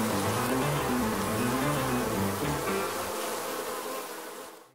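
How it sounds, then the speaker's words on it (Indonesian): A swarm of bees buzzes densely around woodcutters in an animated Indonesian folk tale, a loud continuous drone up close that fades out at the end, with no talk. "Lebah-lebah itu mulai berdengung di dekat telinga dan di depan mata mereka."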